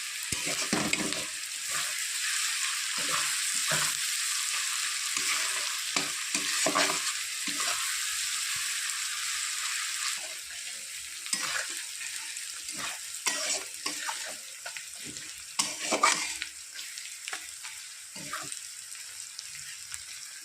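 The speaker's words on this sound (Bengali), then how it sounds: "পেঁয়াজ আমার ভাজা হয়ে গেছে" Onions frying in a pan, a steady sizzle with occasional stirring scrapes, close and moderately loud.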